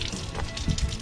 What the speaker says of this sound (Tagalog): At dito naman yung kanilang gripo.